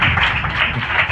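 Children clapping together after a memory verse recital, a brief, steady burst of applause from a small group, close and fairly loud.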